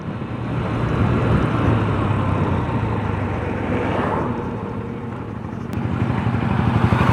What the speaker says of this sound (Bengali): পেছনের চাকাটা কিন্তু একটু সামান্য স্কিড করছে, যদিও আমি ইঞ্জিন ব্রেক সহ ব্রেক টেস্ট করছি।